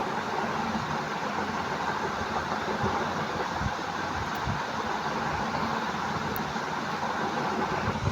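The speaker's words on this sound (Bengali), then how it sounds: "এখন আমি এখানে এলাস্টিক ব্যবহার করব এই যে দেখো রাবারটি আমি লাগিয়ে দিব এভাবে সেলাই করে" A sewing machine runs steadily as it stitches elastic onto a pair of pants for a three-to-four-year-old child, giving an even, continuous motor whir with a low hum and no pauses.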